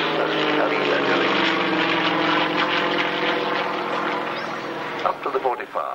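A Finnish-flown Sukhoi 26 aerobatic propeller plane performs at a 1994 warbirds airshow at Wroughton Airfield, its engine droning loud and steady throughout. The drone fades slightly toward the end as a commentator's voice comes in.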